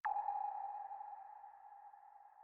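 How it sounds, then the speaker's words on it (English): Submarine sonar ping sound effect in Das Boot style for a trance track, a single sharp electronic ping followed by a long resonant tone that rings and slowly fades over two seconds, alone. "I've also got this sort of Das Boot submarine sound."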